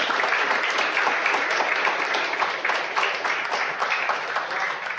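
Steady applause from an audience at a leadership interview with a military colonel, dense overlapping clapping held at an even level throughout with no voices over it.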